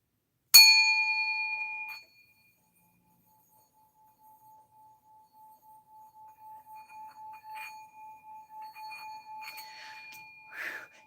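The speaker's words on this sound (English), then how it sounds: "I forgot to hit the bell." A small bell struck once, ringing out sharp and clear before decaying over about a second and a half, then a quieter pulsing electronic tone that swells and fades with a few faint clinks and another soft ding at the end.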